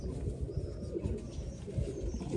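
Soft, low pigeon coos repeat through a short stretch at a pigeon keeper's loft, where a female pigeon has settled on her perch, with faint rustling around them.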